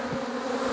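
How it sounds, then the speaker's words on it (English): Nurse honey bees being shaken into a hive box in a kitchen hive setup give a brief, steady, loud close-up buzz, a dense droning hum without pause. "we take these bees that have been, that are basically nurse bees, shake them down into the bottom here"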